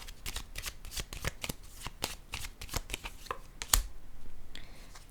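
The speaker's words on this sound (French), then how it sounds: "là je vais déposer une carte ici" A tarot card is set down on a table during a reading, one sharp crisp tap standing out among a run of soft card-handling rustles and snaps, close and fairly quiet with no talking.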